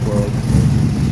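Close, loud rough running of a Chevrolet S-10 engine with a fouled spark plug, an uneven low rumble that stumbles briefly partway through, with no voices over it.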